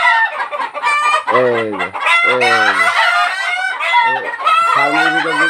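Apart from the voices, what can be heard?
Egyptian Fayoumi hens clucking on a farm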